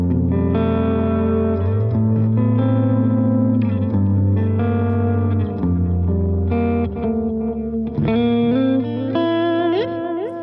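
Ambient electric guitar played through a Line 6 Helix with stock cabs, long delay feedback repeats and reverb trails layering sustained chords and swelling notes, loud and continuous with no talking.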